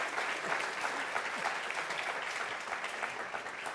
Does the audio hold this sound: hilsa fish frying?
no